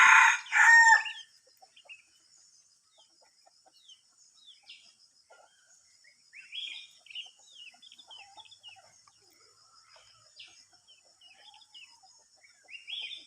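A released red junglefowl crows loudly and close by near a house, then scattered soft clucks and bird calls follow over a quiet background.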